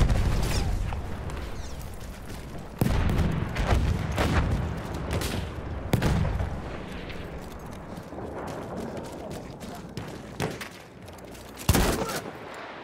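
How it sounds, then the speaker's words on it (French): A grenade goes off in Battlefield 1 amid loud, continuous battlefield gunfire, and several heavy explosive bursts punch through the sustained din. "Je lance une grenade!"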